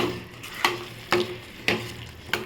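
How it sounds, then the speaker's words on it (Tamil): Fish podimas sautéing in a pan: a low steady sizzle with four evenly spaced scraping strokes of a spatula, close and distinct, about every half second. "மீனை சேர்த்தாச்சு இப்போ நல்லா வதக்கிக்கோங்க"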